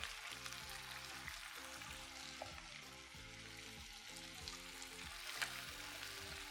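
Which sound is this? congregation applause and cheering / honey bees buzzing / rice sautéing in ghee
rice sautéing in ghee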